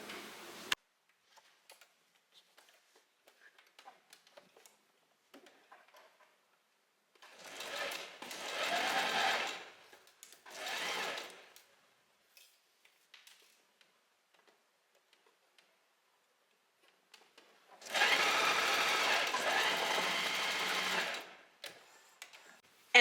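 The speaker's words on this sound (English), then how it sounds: "And then we're gonna sew from here to here." Sewing machine stitching fabric for a puffy-sleeved dress, three separate bursts of rapid mechanical whirring, the last and longest at the end, with quiet handling clicks in between and no talking.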